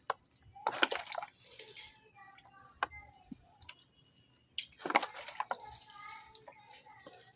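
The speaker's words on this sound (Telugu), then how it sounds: "దాని తర్వాత మనం మొక్క మొత్తం కూడా స్ప్రే చేసేసుకుందాం ఈ వాటర్ మొత్తం అన్నిటినీ కూడా" Water is sprayed over a hibiscus plant in short splashy, dripping bursts, fairly quiet and close, with pauses between sprays.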